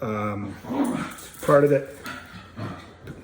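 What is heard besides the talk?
dogs playing and whimpering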